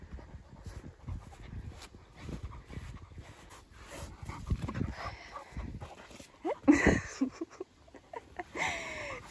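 A dog pants quickly and lets out soft whimpers outdoors, close and fairly faint. Breathy bursts build toward a louder stretch near the end.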